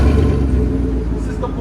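A 2019 Chevy Tahoe with a 5.3L V8 and a Borla ATAK muffler revs briefly, giving a deep, throaty exhaust rumble close by while a voice talks over it.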